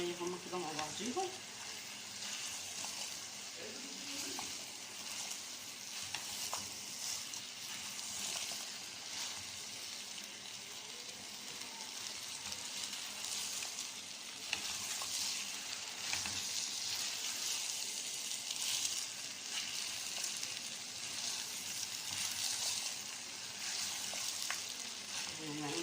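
Stuffed vegetables (cabbage, zucchini and peppers filled with rice) fry in a pan with a steady, close sizzle and occasional stirring scrapes for the whole stretch, with faint background noise.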